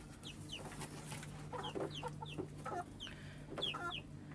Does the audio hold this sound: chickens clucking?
yes